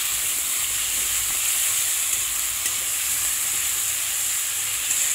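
Cumin and ginger spice paste frying in a pan for a tangra fish curry, a loud, continuous, even sizzle with a bright hiss throughout and no talking.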